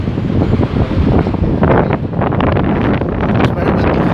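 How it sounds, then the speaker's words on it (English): Strong wind buffets the microphone on a street walk along Katipunan Street at the edge of Metro Manila, a loud continuous roaring rush with gusty swells throughout. "It's very windy. It's even pushing me."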